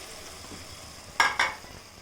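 Tomatoes go into a pan of vegetable curry and are stirred: two sharp sizzling scrapes a moment apart rise from a quiet simmer, close by and with no voices.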